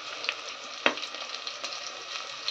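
Coriander, mint and shahjeera fry in hot oil at close range, giving a constant bright sizzle with a sharp crackle partway through and stirring scrapes throughout, with no talk.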